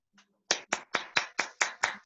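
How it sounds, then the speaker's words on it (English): Eight sharp, evenly spaced hand claps from a single person, close and crisp, in a short burst after one faint tap, as participants in an online meeting clap. "Everyone can clap."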